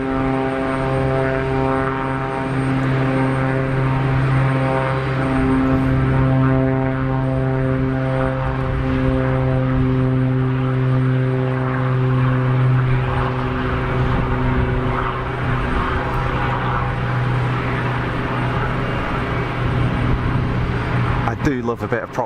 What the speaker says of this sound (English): Oh yeah, prop noise.